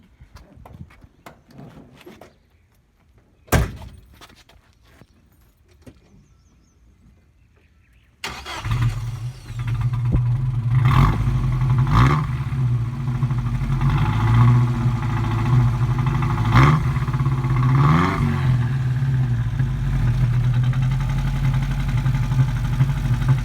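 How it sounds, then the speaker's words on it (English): Classic Datsun with a new Thrush turbo muffler cranks and fires up at about eight seconds, then settles into a loud, steady, deep exhaust rumble with a few revs, following quieter clunks and knocks beforehand. "You'll love the sound of this. I just put a new thrust turbo muffler on it."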